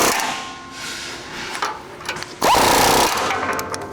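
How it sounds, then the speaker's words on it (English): Power tool tightening intercooler bolts during a front skid plate install on a Ford Bronco, with a loud steady ratcheting burst of rattling, buzzing drive heard up close after a short quieter stretch of clicks. "I'm gonna go ahead and just tighten up our intercooler bolts again"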